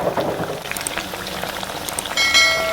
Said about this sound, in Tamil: ஒவ்வொரு ப்ரான்ஸாக நம்ம ஃப்ரை பண்ணிடலாம் ஸ்லோ ஃப்ளேமில் கரெக்டாக குக் ஆகும்